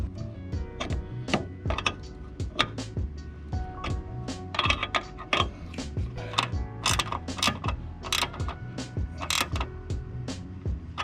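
Ratchet wrench clicking as 13mm bolts are snugged on brake upgrade parts for a track-prepped Miata with a 2.5 engine swap, with steady rapid metallic ticks and clunks in bursts, close and fairly loud, with no talking.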